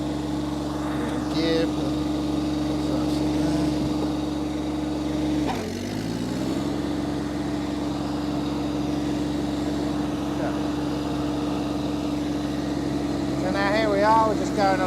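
An Iseki TXGS24 sub-compact tractor with front end loader and mulching deck runs steadily at a constant droning idle, with a brief dip and change in engine note midway, while someone talks briefly.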